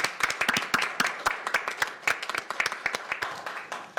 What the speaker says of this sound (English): Let's join us in a round of applause.